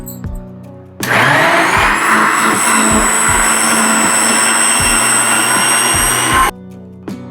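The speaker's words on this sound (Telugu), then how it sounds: "మధ్య మధ్యలో కూల్ వాటర్ పోసుకుంటూ మనం మిక్సీ వేసుకుందాం" Kitchen mixer grinder churning cream into butter with cool water, starting abruptly into a loud, steady high-pitched whirring roar with a churning slosh that runs for about five seconds, then stops sharply with faint handling sounds before and after.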